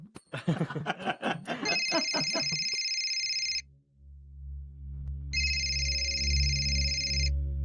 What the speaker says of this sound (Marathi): ते जेडीला बघून गेलेल्या मुलाचा फोन आहे